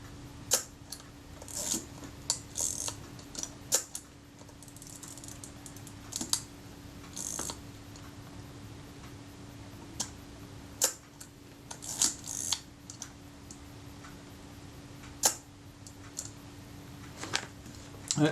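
Agfa Karat 36 camera mechanism under service, giving sharp intermittent clicks and snaps from the shutter and film advance, scattered irregularly over a quiet background with a faint steady hum.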